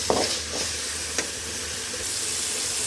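Tomatoes fry with sautéed onions in a pan for spicy mutton gravy, a soft steady sizzle and hiss with a couple of brief stirring knocks near the start, close and without talk.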